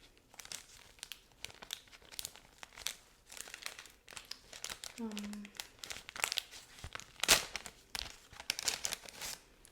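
A medical dressing package crinkles and tears as it is opened, with dense, close plastic rustling and one sharp rip, while someone speaks softly over it.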